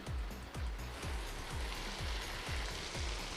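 Garlic ginger paste, three teaspoons, frying in a pan of golden-browned onions for an aloo gobhi masala, giving a steady loud sizzle with a rhythmic series of low stirring knocks about twice a second.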